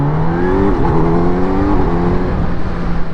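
A Kawasaki Z900 SE with a quick shifter revs hard in first gear and then shifts to second, a loud close engine drone that rises, dips at the change and carries on.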